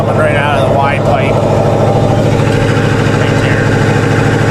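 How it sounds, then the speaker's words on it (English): An engine that had sat parked for most of a year idles with exhaust leaking from the Y pipe, a loud, steady, rumbling drone throughout, with brief speech audible over it early on. "The exhaust is coming right out of the Y pipe."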